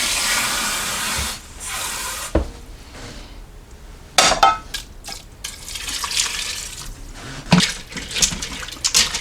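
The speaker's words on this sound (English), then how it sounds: "I'm going to add another 2 cups of water." Water, about two cups, pours into a pressure cooker of goulash, a steady splashing stream broken by clinks of pot and utensils, close and moderately loud with no talk.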